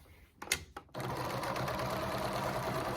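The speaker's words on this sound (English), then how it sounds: "I'm sewing all the way around." A sewing machine stitches polar fleece scraps around a reversible microwave bowl cozy, starting after a few brief handling noises and then running steadily and close for the remaining seconds.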